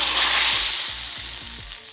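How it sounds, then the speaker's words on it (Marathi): Loud, continuous sizzling as a hot ghee tempering hits drumstick soup, a bright crackling hiss that slowly fades, with no voices. "छान अशी आपली फोडणी तयार झाली आहे आणि ती सूपमध्ये आता ॲड करते"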